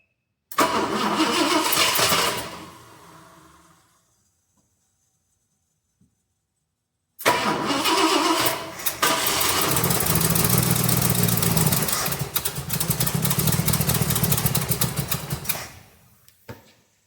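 A 1966 Ford Galaxie 500 with a 390 FE V8 and four-barrel carburetor cranks and catches for about two seconds, then dies into silence. After a pause it cranks again and runs loudly for around eight seconds before shutting off.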